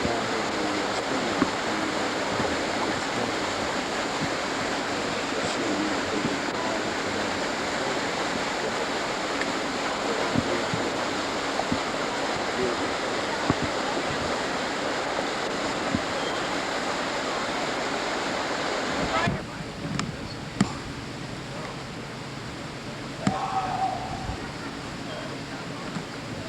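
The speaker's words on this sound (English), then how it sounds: "Water rolling down over the spring." Water rushing steadily over the mill race at Alley Spring mill in Missouri, a broad continuous roar that drops suddenly to a quieter flow near the end, with faint handling noises.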